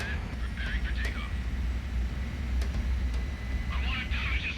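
Fighter jet engine in Ace Combat 6 roaring at a steady low rumble on the runway before takeoff, with radio voices talking over it throughout.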